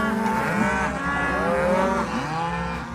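Cattle grazing in a village pasture, with loud, close, drawn-out moos overlapping one another across the whole stretch and no talk.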